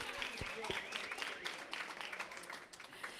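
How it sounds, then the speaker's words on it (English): Applause for Julie, marking her six months of service as executive director, fills the room with a steady wash of clapping from a gathered crowd at an organization's announcement, with a few sharp claps near the start. "Let's give a round of applause to Julie for her 6 months of service."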